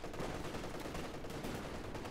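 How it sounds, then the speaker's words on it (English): MG34 machine gun firing in Company of Heroes 2, a continuous rattling burst of rapid shots, dense and steady, heard at low level amid battle noise. "MG34, by the way."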